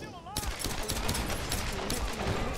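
Rapid gunfire in the Tomb Raider video game, a steady stream of loud close shots running almost without pause, with occasional speech mixed in.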